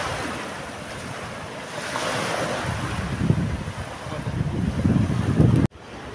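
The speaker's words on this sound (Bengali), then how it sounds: "আর এই দেখো ঢেউগুলো কেমন আসছে।" Ocean waves roll and wash ashore on an Andaman island beach, a loud continuous surf swelling and breaking with gusty wind buffeting the microphone, cutting off abruptly near the end.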